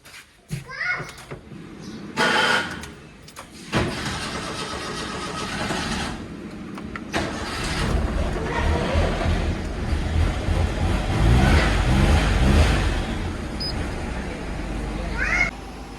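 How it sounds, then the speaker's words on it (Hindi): A car engine starts and settles into a low, steady rumble that grows louder. Children and adults talk throughout, and a cat meows. "आ रहा हूँ, गाड़ी निकाल रहा हूँ अभी"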